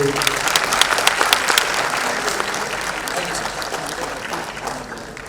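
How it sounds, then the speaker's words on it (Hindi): Loud, sustained applause from an award ceremony audience honouring Ramesh ji at the Dadasaheb Phalke Award 2017, dense clapping filling the hall steadily for several seconds with no talk over it. "आई थिंक एक बार फिर जोरदार तालियां रमेश जी के लिए"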